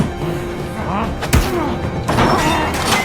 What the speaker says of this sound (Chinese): 转头扑向了基诺，2人随即扭打在了一起。